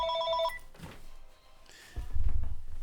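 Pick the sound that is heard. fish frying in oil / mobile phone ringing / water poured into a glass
mobile phone ringing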